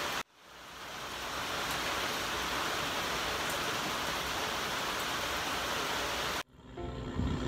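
Steady rain pouring down at a fishing raft, a dense loud hiss lasting about six seconds, close and constant, cutting off abruptly near the end.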